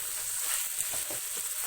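Masala of red chili, dry coriander and ground garam masala fries in a pan, giving a steady, quiet, even sizzle with light stirring noises.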